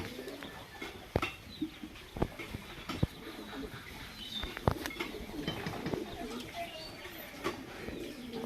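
Long-bodied pigeons coo softly in low, throaty calls in a loft amid background murmur, with several sharp knocks and rustles scattered throughout.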